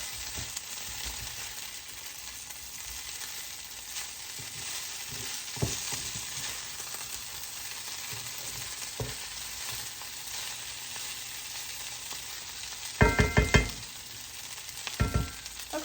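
Okra frying in hot grease in a skillet, giving a steady close crackling sizzle throughout, with a few sharp scrapes and clatters of stirring near the end.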